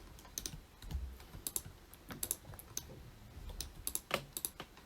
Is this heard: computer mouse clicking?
yes